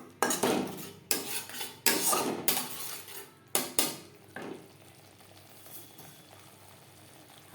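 A utensil scrapes and clatters against a pan while grated coconut fries, loud bursts of stirring over the first four seconds, then fading to a quieter sizzle.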